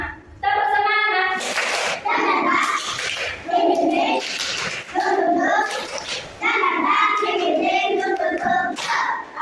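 Schoolchildren in a first-grade madrasah class clap out the rhythmic 'tepuk semangat' chant, loud and close, with patterned bursts of hand claps interleaved with their chanting voices throughout.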